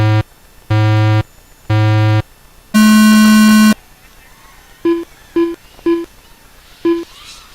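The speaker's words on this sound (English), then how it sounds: "I give you those beeps." Race start signals at the Jim Gibney Memorial Race: three loud evenly spaced tones, a longer higher tone, then a quick run of short beeps, all clear over faint background noise.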